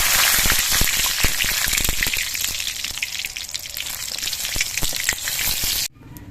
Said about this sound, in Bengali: তেলের মধ্যে দিচ্ছি চারটে তেজপাতা পাঁচ ছটার মতো শুকনো লঙ্কা